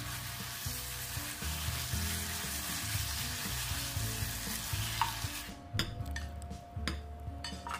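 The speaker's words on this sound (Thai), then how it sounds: "ผัดไก่กับผักไก่มันมีรสชาติอยู่แล้วนะคะลองผัดแล้วชิมดู" Chicken and vegetables stir-frying in a pan sizzle steadily. Rhythmic scraping and stirring knocks run through it, and sharper utensil clinks against the pan come toward the end.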